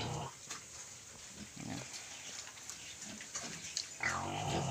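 Small native pigs in a muddy pen grunt in short, scattered bursts, close by, over a soft background hiss.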